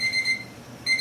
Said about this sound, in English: Okay, you can hear the timer going off.